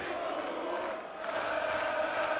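A large darts crowd of about 3,000 fans in Saarbrücken booing Cristo Reyes, a steady sustained roar of jeering voices that dips briefly and swells again.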